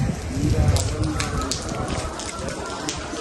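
Steady winter rain falls across a farm area in Pakistan, a broad continuous hiss with patters near and far, while someone speaks over it.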